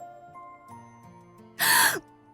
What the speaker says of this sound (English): That is not a deep breath, that's a gasp. And a gasp of agony and pain.